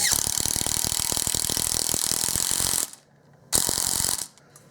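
A Makita 7.2V cordless impact driver sinking a small one-inch screw into wood, a loud rapid ratcheting hammer that runs steadily, cuts out, then gives one more short burst at its torque limit.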